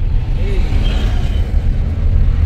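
Heavy street traffic in Cameroon rumbles with a deep engine drone, a big truck passing close amid steady road noise.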